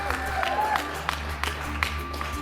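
Scattered clapping and cheering from a team at headquarters after a New Shepard rocket landing, somewhat distant, with sharp claps and whoops over a low steady hum.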